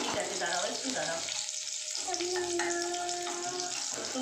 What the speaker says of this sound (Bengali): এদিকে আমার পকোড়াও হচ্ছে ভাজা